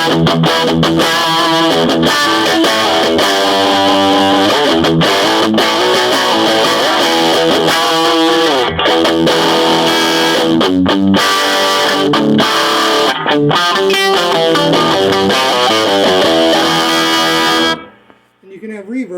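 Electric guitar played through an Ampeg Gemini amp with the bass rolled fully off, giving tight, bright sustained chords and notes, loud and continuous before stopping abruptly near the end.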